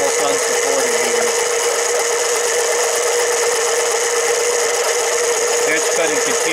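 A Harbor Freight 7x10 mini lathe cuts a 304 stainless steel bolt, giving a loud, steady motor whine with a continuous high cutting hiss, close up, while someone talks briefly over it.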